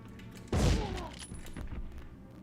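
A shotgun blast in the Medal of Honor video game, a single loud boom with a short decaying tail, heard alone with no talk.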